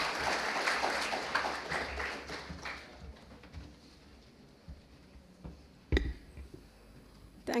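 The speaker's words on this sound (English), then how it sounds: "Mohan got an applause for all the people who helped with the workshop" Applause from an audience at a residential journalism workshop's valedictory programme, a brisk burst of clapping for the first few seconds that thins out into a quiet room with a few scattered claps and taps.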